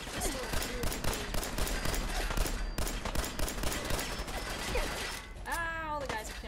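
Rapid pistol gunfire from a glow-sighted pistol in Fallout 4, firing dense repeated shots amid combat noise, with a rising electronic whine near the end.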